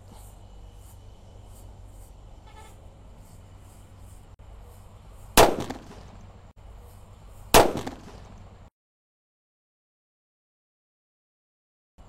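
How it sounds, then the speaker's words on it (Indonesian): Two sharp, loud firecracker blasts go off a couple of seconds apart, each a sudden broadband crack with a short ringing tail, over steady outdoor background noise during Ramadan festivities before Lebaran; the scene then falls abruptly silent. "Ini merconnya buanter guys, beledosnya guys"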